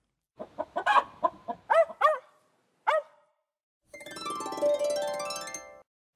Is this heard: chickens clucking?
yes